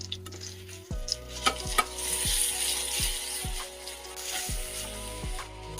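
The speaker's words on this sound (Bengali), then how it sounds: "পেস্টটা আমি এর মধ্যে দিলাম দিয়ে এবার ভালো করে আবার ফ্রাইটা করব" A paste of ginger, garlic, poppy seed, sesame and tomato fries in a pan, sizzling steadily while a spoon stirs and scrapes it in repeated strokes, close and alone without talk.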